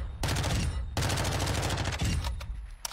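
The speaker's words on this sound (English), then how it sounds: "That's a lot of bullets to be putting in a dummy." Sustained automatic gunfire, apparently an MP5 or similar gun, pumped into a dummy in bursts, loud and close with brief pauses between long strings of shots.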